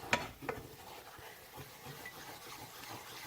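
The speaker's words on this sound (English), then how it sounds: "You got to keep stirring it." Flour roux for chicken, shrimp and sausage gumbo being stirred in a pot on the stove, a quiet continuous scraping swish with a faint sizzle and a couple of sharp utensil knocks near the start.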